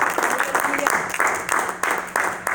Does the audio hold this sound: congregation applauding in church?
yes